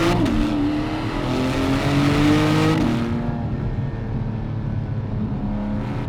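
Porsche 718 GT4 with PDK gearbox downshifting through a corner, engine note dropping in stepped blips then settling into a steady loud drone, close and continuous with no talking.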